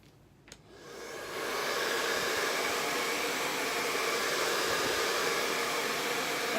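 A hair dryer is switched on after a faint click and ramps up to a loud, steady rushing whoosh of air over a craft project. It stays close and constant, with no talk.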